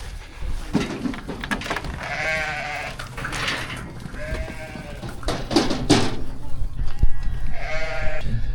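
Sheep and lambs bleat on a farm, several wavering calls from different animals overlapping close by over a steady background hum, with no talking.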